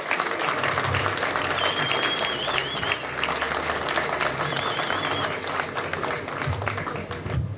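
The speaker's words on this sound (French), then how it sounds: "Et je pense qu'on peut les applaudir chaleureusement" Audience at a political rally for the European elections in Montreuil applauding warmly, a dense continuous wash of clapping from a large crowd with scattered cheers and whistles throughout.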